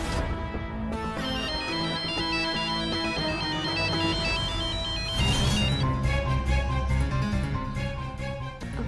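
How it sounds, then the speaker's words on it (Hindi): A melodic ringtone plays steadily and loudly for the whole stretch, its tune repeating with a brighter, fuller section partway through, with no talking over it. "अब ये क्यों फोन कर रहा है मुझे?"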